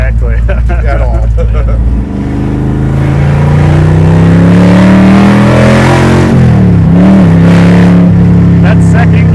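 A 1,000-horsepower Hellephant-powered Dodge Charger pulls hard in second gear, its engine note climbing loud and close in a continuous rising roar with a brief dip and recovery, while people talk over it.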